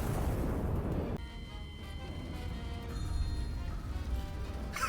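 Artillery cannon fires in the Iron Nest video game, a heavy boom with a long rumbling roll and debris-like crackle fading over several seconds, loud and close.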